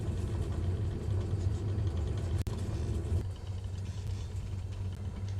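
A Cessna aircraft engine taxiing in a flight simulator game, a steady low rumbling drone at moderate loudness with a brief click partway through and no voices.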